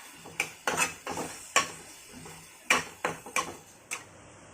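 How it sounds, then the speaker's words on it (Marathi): Spiced masala for a restaurant-style kabuli chana masala is stirred in hot oil, a spoon or spatula knocking the pan in irregular sharp taps and scrapes over a quiet sizzle, with no talking. "आता याच्यात आपण या मसाल्यांमध्ये 2 मिनिटं चांगलं फ्राय करणार आहे"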